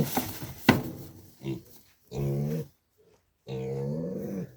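Month-old piglet on a small farm, weighed at weaning, lets out several loud, harmonic squeals in separate bursts, with grunts and scuffling between them.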